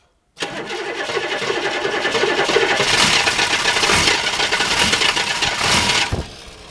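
A plow truck engine cranking over on a cold morning and catching, settling into a loud, steady mid-pitched running rumble with knocking clatter, close by and alone until it cuts off.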